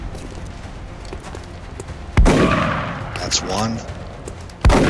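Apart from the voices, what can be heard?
rapid gunfire in X-COM: Enemy Within video game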